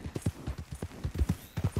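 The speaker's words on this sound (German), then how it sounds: "Lasagne ist mein Pferd" Horse hooves clip-clop in a steady trotting rhythm, close and clear with no other sound, as a horse moves through the open world of Red Dead Redemption 2.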